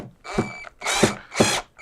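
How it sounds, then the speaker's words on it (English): A power drill backs screws out of a tone bar on an old Rhodes electric piano during restoration, three short whirring bursts in quick succession, close and fairly loud, with no talk. "So with the help of my trusty drill, I am now going to"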